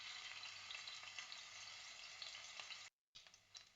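Ginger hits hot coconut oil in a bronze pot and fries with a steady bright sizzle and crackle, briefly cut to silence near the end before the frying resumes.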